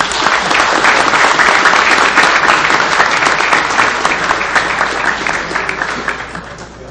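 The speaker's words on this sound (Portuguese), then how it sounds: "Uma salva de palmas para todos os empossandos." Sustained applause from an audience at a swearing-in ceremony for new members of a public prosecutor's office body, dense loud clapping that gradually thins and fades toward the end.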